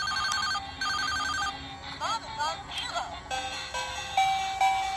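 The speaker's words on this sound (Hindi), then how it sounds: "लाइट जल रहा है और म्यूजिक भी चल रहा है, बहुत खूबसूरत वाला एक मोबाइल फोन" A toy mobile phone with lights plays bright electronic beeping melodies and ring-like tones in short phrases, near and moderately loud, with someone speaking over parts of it.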